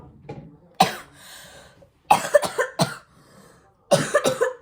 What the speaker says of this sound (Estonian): Mu köha.